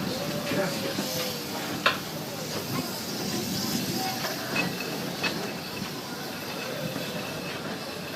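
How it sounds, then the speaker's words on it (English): Walt Disney World Railroad steam train running on its Grand Circle Tour of the Magic Kingdom: a steady rolling rumble and hiss with occasional sharp clanks, heard from on board, with faint murmuring voices in the background. "There are some who say that this steam train is a little old-fashioned"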